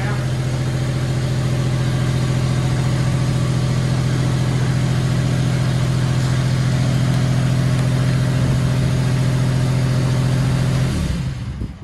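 A fire-damaged Ford Fiesta ST being driven, its engine giving a steady, loud mid-pitched drone with a strong low hum for about eleven seconds before it cuts off near the end.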